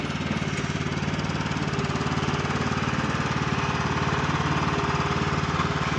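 A Husqvarna lawn mower engine runs steadily and close, a continuous throbbing drone with a dense, rattly pulse and no break for the whole stretch.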